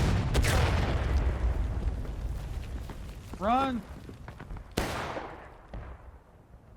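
Cannon and musket fire in a large Civil War battle video game near an orchard, heavy booming blasts and crackling gunfire under shouting voices, with a sharp loud report near the end.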